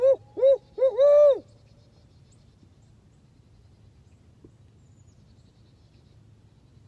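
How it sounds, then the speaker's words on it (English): An owl gives four quick hoots at the start, then everything falls to a faint, low hum, out on a hiking trail. "Oh, I hear some owls."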